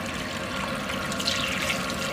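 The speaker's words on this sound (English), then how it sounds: "I'm going to fill it back up with warm water again" Warm water runs from a tap into a tub for washing wool, a steady close rushing and splashing fill that continues without a break and with no voices.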